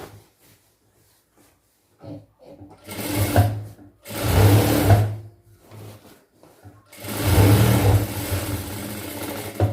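A sewing machine runs in three bursts while stitching a double stitch on a chudidhar pant, each run a loud, steady whirring hum separated by short pauses and the clack of fabric being turned.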